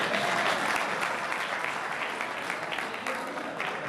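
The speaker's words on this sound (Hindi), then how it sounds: "मुकम्मल तालियां बजा दें यार" An audience at an Urdu poetry mushaira in Dunyapur claps steadily for several seconds, a dense and fairly loud applause with faint voices mixed in.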